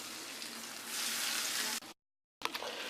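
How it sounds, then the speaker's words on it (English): Steady, loud sizzling of milanesa cutlets frying in a pan, cut by a brief moment of silence before the crackling resumes. "we've still got a couple more frying here"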